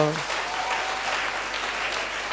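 A church congregation claps and cheers loudly for the Lord, a steady wash of applause that fills the whole moment after a voice briefly leads them.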